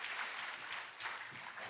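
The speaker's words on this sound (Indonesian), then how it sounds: "Berikan tepuk tangan yang meriah bagi Tuhan." A church congregation claps together in a steady, dense burst of applause, fairly soft and diffuse, filling the space without any voices standing out.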